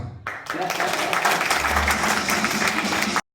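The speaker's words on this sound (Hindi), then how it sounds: "तालियां।" An awards ceremony audience breaks into sustained applause, a dense continuous patter of many hands with a low rumble underneath, cutting off abruptly at the end.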